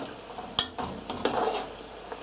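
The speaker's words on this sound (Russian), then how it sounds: "Вот теперь надо мешать постоянно" A spoon stirs watermelon rind syrup simmering in a pot, with scraping strokes and soft bubbling, close and moderately quiet.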